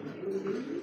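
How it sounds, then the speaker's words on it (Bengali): Brief single low, throaty coo from a nearby pigeon, soft and short, heard alone. "নটটা তো আমি জানি প্রচন্ড ডাকে নটটা"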